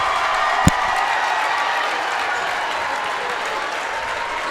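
A home basketball crowd in Ashland, Nebraska cheers and applauds after a win, a loud, dense, sustained roar of clapping and voices with one sharp bang near the start.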